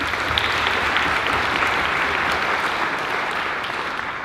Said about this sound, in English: So I want to give each of you a round of applause for all of your love and all of your support for the years